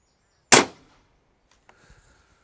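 A crossbow bolt is shot into ballistic gel, heard as a single sharp, loud snap that fades fast, followed by near silence and a few faint small knocks.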